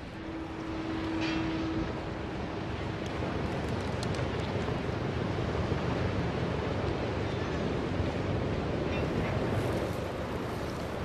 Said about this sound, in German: Heute weht nur eine leichte Brise und schiebt mich voran